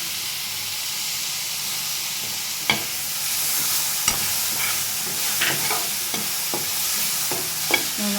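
Tomatoes frying and being stirred in a hot pan for kadala curry, a steady close sizzle and hiss with a few sharp scrapes and knocks of the spoon against the pan, no talking.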